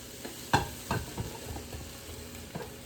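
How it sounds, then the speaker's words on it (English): Chicken and brussels sprouts are stirred in a pan for a keto dish: a few sharp scrapes and clatters of the utensil over a soft, steady sizzle, close and fairly quiet. "Just keep on stirring and get it all coated."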